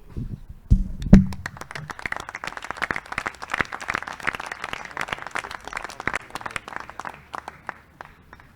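Applause at a municipal council meeting in Bègles, a brief thump and then a room of people clapping at a brisk, uneven rhythm that gradually thins and fades out.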